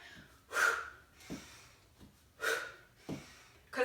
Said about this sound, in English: So I'm going to inhale here